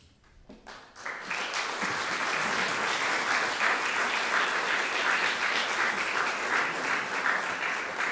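Audience applause for a choir led by Marjan Malovrh at a Slovenian concert: after a quiet second, a dense, steady burst of clapping swells up and holds loud and even to the end.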